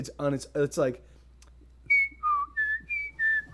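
A person whistles a short, angular tune as a run of distinct pitched notes, close and clear, after a brief burst of talk at the start.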